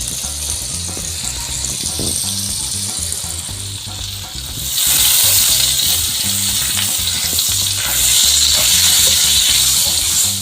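A small piece of butter melting into two or three spoons of hot oil in a kadai, giving a loud, steady sizzle that jumps brighter about halfway through, with faint utensil clinks and no talking.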